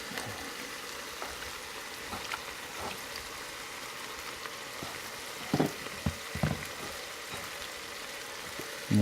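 Shrimp tossed with Cajun seasoning sautés in a pot with a soft, steady sizzle, a constant crackle with a few louder pops near the end.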